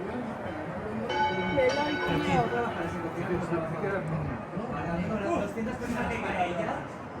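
Church bells swing and ring from the Micalet, Santa Catalina, San Esteban and other bell towers in Valencia, a steady clangor heard from street level under continuous crowd chatter.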